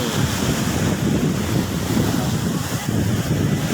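Strong sea waves at Bang Saen beach in Thailand surge and wash steadily in a continuous loud roar, with wind buffeting the microphone throughout.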